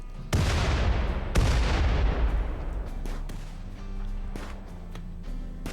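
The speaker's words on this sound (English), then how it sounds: "That's a lot of friggin' grenades." Grenades from a breach raid in RimWorld explode in quick succession, two heavy booming blasts followed by smaller cracks and pops of gunfire, loud and close, with no talking.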